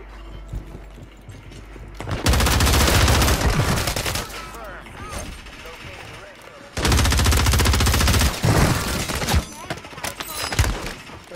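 Gunfire in a Warzone match on Rebirth Island, two long loud bursts of rapid automatic fire with sharp cracks, separated by a quieter stretch, with a voice talking faintly in between.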